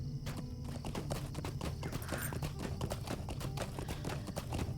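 Rapid, steady clip-clop of horse hooves galloping in the fantasy online game LOTRO, dense and continuous at moderate loudness with no talk over it.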